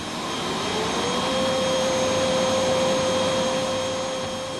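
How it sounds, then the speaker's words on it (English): Aircraft engine turning over at low power during a ground test run after an engine change, a steady roar with a sustained whine that stays constant and fairly close for the whole stretch. "the engine change has been completed. Now, all that's left is the all-important test run."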